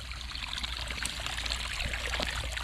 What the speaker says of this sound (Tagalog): Yan, nahahati-hati na po ang tubig.